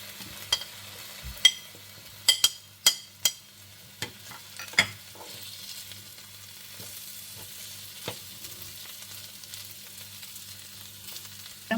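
Shallots, mint leaves, ginger, garlic and chicken frying and being stirred in a pan for nombu kanji, with sharp scraping stir clacks in the first five seconds over a soft steady sizzle.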